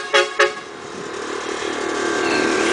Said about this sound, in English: You can also blow them with the remote,